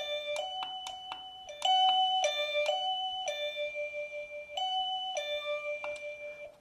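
A wireless electronic doorbell chime set to a lower volume: a series of clear, bright melodic tones, the first few short and closely spaced, followed by longer ringing notes that decay cleanly in a quiet room.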